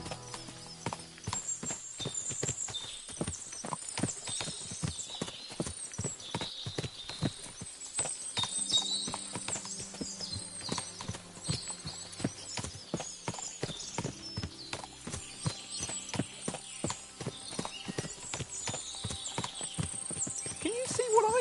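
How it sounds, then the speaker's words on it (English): Horses in the medieval game Kingdom Come: Deliverance 2 clatter along in a busy, rhythmic clip-clop of many hooves, with occasional whinnies cutting through, while a voice talks over them at times. "Can you see what I see? Fuck! What a lot of horses!"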